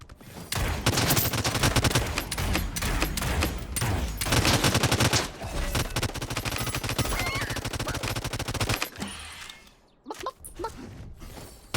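Rapid bursts of SMG fire from Realm Royale Reforged, dense and loud through most of the stretch with overlapping game effects, then thinning out near the end.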